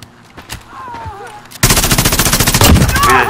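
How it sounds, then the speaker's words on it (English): Rapid automatic gunfire bursts loudly from an online Call of Duty Modern Warfare match on the Aniyah Palace map in hardcore mode, a steady close fusillade following a brief quieter stretch with faint voices. "who's shooting?"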